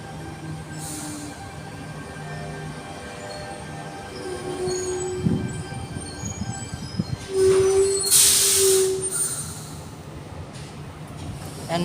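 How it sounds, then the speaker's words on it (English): Tangara electric train on a Bondi Junction service passing through Sydenham Station in Sydney, a steady rumble of wheels and motors with a brief high wheel squeal and a tonal hum partway through. "another Tangara for a Bondi Junction service, T31 leading set."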